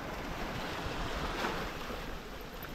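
Sea waves wash onto the shore in a broad, steady roar of surf, swelling slightly midway, with some wind noise and no voices.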